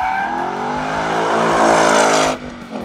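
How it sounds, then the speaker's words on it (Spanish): A 2022 Ford Mustang Mach 1 V8 drifting on a race circuit, its engine revving loud and sustained with a rising roar, then easing off near the end as the tone drops away. "el derrapar con este Mustang es un reto alucinante porque tiene una trasera muy viva"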